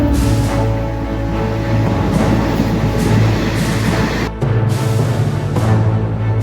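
Koyna Express passenger train running on the line from Kolhapur, a steady loud rumble of wheels and carriage with rhythmic clatter throughout, briefly dipping for a moment midway.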